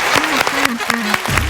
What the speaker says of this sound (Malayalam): നല്ലൊരു കയ്യടി.